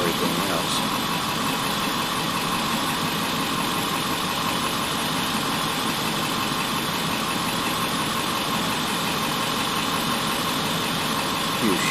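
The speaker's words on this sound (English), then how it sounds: "I hope the sound of the truck engine doesn't drown out everything else" A truck engine idles close by, parked on a coastal trip in Maine. The loud, constant rumble and vibration hold steady throughout the clip without change.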